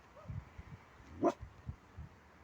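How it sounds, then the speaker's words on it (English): A dog gives a single short bark against a quiet outdoor background on a cold morning, with a few soft rustles around it. "She's barking at a dog that's barking off in the distance."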